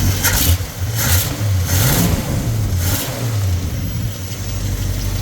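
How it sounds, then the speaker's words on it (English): An old smoking truck engine runs with a steady, uneven rumble, the pitch wavering slightly as it idles, close and loud with no talking. "as old as this truck is, it just purrs like a kitten"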